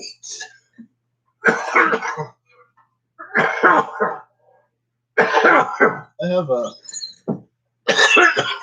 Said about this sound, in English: A little bit of cough from that.